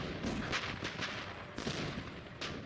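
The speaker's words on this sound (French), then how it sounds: "Et le pilonnage, d'une puissance inouïe." Artillery bombardment at the Battle of Dien Bien Phu in 1954, a rapid succession of muffled blasts and cracks that are faint and distant, with a sharper report partway through.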